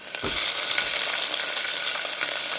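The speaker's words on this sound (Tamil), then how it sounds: "வெங்காயம் கருவேப்பிலை சேர்த்து நல்லா வதக்கிக்கலாம்" Onions, garlic and curry leaves sautéing in oil for bitter gourd kuzhambu, a loud, dense, continuous sizzle heard close, beginning with a brief clatter.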